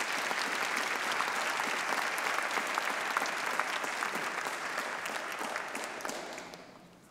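Sustained audience applause at a university graduation ceremony, dense and steady throughout, loud and filling the hall before tapering off at the end.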